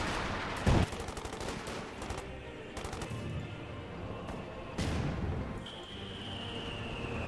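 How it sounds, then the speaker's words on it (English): Gunfire in the Company of Heroes 2 strategy game: scattered shots and bursts rattle through a busy battle mix, with louder impacts near the start and middle and a thin high whine toward the end. "Taking fire!"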